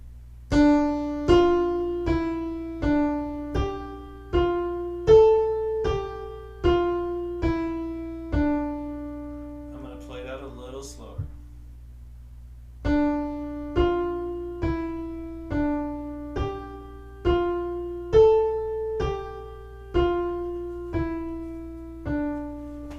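A cantus firmus line in counterpoint played as a slow series of evenly spaced single plucked or struck notes, pausing briefly in the middle before resuming at the same steady pace, moderately quiet and alone.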